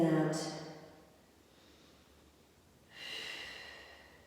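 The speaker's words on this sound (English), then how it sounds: "Take a couple of really deep breaths in and out." Deep breaths during a pilates exercise: a strong airy exhale at the start, a long quiet pause, then another audible breath, close to the listener.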